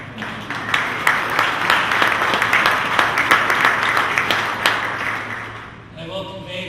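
Audience applause fills the room at a conservation event, steady and fairly loud with dense overlapping claps, fading near the end as a voice begins to speak.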